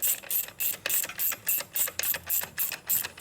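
A ratchet wrench tightens bolts on the primary cover of a 1972 Harley-Davidson Sportster Ironhead, a close run of about a dozen rapid clicking strokes in even rhythm, alone without talk.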